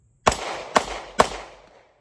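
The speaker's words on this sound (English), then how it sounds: "Maybe some steel, shoot at some steel." Three sharp 9mm pistol shots from a CZ-75 fired at steel targets, evenly spaced about half a second apart, each a loud crack with a ringing tail that fades out.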